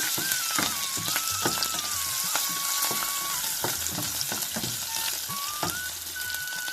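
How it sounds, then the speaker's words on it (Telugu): Dried red chillies and curry leaves frying in hot oil for a tempering, a steady close crackling sizzle with scattered sharp pops and a faint tonal whistle drifting in the background. "వేగిపోయింది అండి పోపు"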